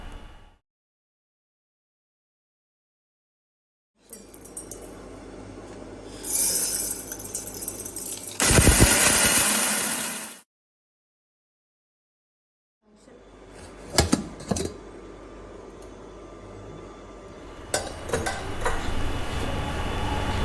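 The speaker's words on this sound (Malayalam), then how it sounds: "ആറിക്കഴിഞ്ഞതിന് ശേഷം നമുക്ക് ഗ്രൈൻഡ് ചെയ്തെടുക്കാം" Mixer grinder grinding roasted rice for a banana stem fry, in loud bursts separated by stops and silent gaps, with rattling and clinking of the jar between runs.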